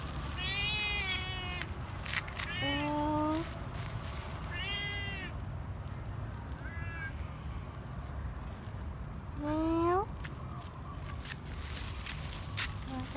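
A cat meows repeatedly in clear, drawn-out calls with short pauses between them, close to the listener over a steady low background hum.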